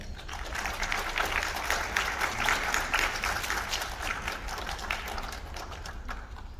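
Students and families applaud at a junior honor society induction ceremony, a steady, full round of clapping from a large indoor crowd that holds throughout.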